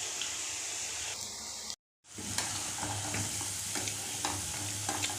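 Bonda snacks made from idli batter (urad dal batter) sizzle and crackle steadily in hot frying oil, with a short silent gap partway through and occasional stirring clinks.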